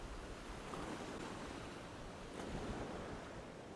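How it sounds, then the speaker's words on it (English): Big ocean waves crash against a rocky shore ledge where someone is fishing, a steady, loud roar of surf and wind that fills the whole clip with no break. "Ooh, big waves."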